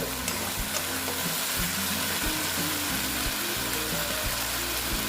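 Tilapia pieces sautéing in mustard paste in a pan, a continuous close sizzle and frying hiss with repeated scraping stirs of a spatula against the pan.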